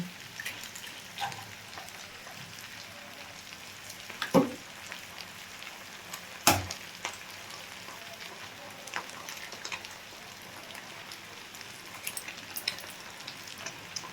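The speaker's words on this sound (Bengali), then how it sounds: "এর মধ্যে আমি দুটো ডিমকে দিয়ে দিচ্ছি" Two eggs sizzle in hot oil in a pan, a steady crackling hiss with a few sharper pops and spatters rising above it.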